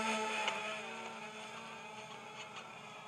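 An RC glider's small electric motor runs at full throttle outdoors. It gives a steady, fairly faint high whine that fades slightly as the model moves away.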